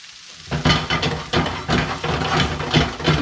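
Butter frying with rosemary and seasoned pieces in a pan, a steady loud sizzle broken by repeated bursts of crackle as the fat is stirred and spooned around, with no talk.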